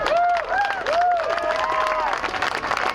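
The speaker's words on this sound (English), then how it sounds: "overwhelming applause" Crowd applause and whistling at a Timber Unity rally against cap-and-trade bill SB1530, a short loud burst of clapping with whoops and sharp whistles rising over it.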